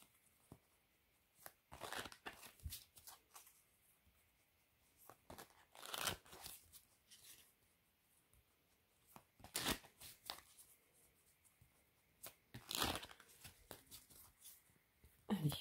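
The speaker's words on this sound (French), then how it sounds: "Allez, on va bien mélanger les cartes." Oracle cards are shuffled by hand in repeated bursts of papery riffling and slapping, close and fairly quiet, separated by short pauses.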